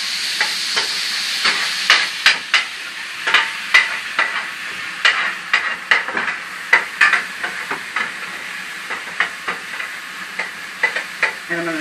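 Chicken and dumplings cook in a pot on a stovetop, giving a constant hissing simmer under repeated light taps and scrapes of a spoon against the pot.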